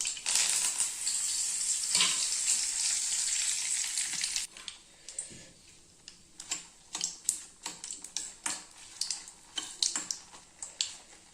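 Dried red chillies and curry leaves fry in hot oil with mustard seeds for a raw mango thokku. A loud, hissing sizzle fills the first few seconds, then stops and gives way to scattered sharp clicks and taps of stirring in the pan.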